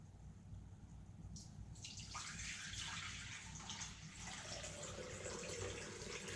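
Water is poured into an essential oil diffuser, a steady splashing stream that starts about a second in and runs close and continuous to the end, with no talking.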